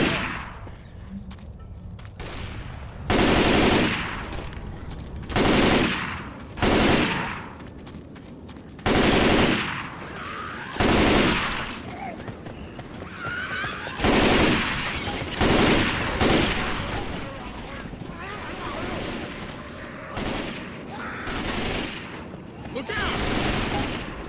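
Rifle gunfire in the zombie shooter game Left 4 Dead 2 comes in repeated loud automatic bursts, each lasting a second or two, separated by short pauses with quieter game noise between.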